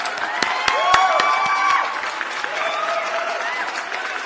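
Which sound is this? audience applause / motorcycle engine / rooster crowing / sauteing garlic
audience applause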